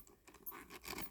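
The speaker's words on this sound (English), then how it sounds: "Sounds like it's a chain or something." Small metal chain rattling inside a Dooney & Bourke small zip crossbody handbag package padded with plastic bubble stuffing: a brief, light jangle of two or three quick clinking bursts, close and fairly quiet.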